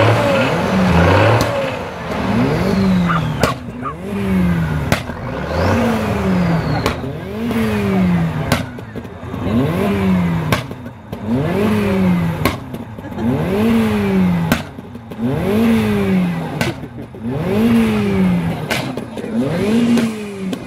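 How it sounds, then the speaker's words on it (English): An old army truck at a classic car show revs its engine again and again in sharp, regular bursts, each rise and fall repeating about every second, loud and close with no talking. "Okay, let's have the army truck first then."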